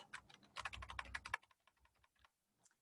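Typing on a computer keyboard: a fast run of close, crisp key clicks followed by a few slower, sparser keystrokes trailing off.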